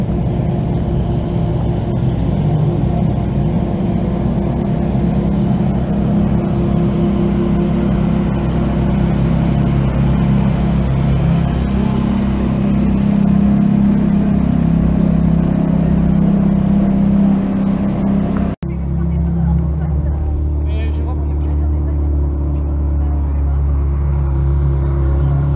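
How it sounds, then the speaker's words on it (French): Ferrari cars arrive at a Ferrari gathering, a continuous loud low engine rumble and whir rolling past nearby, easing briefly then resuming deeper and steadier toward the end. "L'arrivée d'autres voitures"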